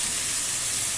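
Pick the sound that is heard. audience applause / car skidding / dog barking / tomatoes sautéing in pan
tomatoes sautéing in pan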